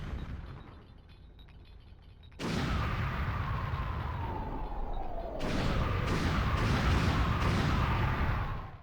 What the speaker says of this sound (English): sending the train hurtling down the tracks where it crashes into a factory with a massive explosion